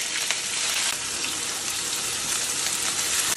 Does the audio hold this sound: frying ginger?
yes